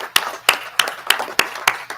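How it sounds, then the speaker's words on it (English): Slow, sparse handclaps at a university board of supervisors meeting, about seven distinct claps at an even pace, fairly close and alone. "we need to give him a round of applause too"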